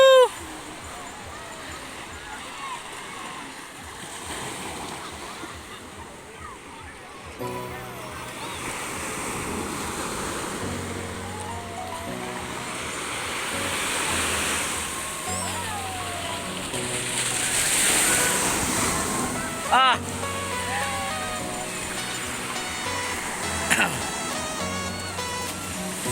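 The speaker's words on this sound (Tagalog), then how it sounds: "Malakas yung alon." Strong surf at a white-sand beach resort in Pangasinan, with waves washing and crashing up the shore amid steady wind rumble, while people nearby talk and shout excitedly over the roar.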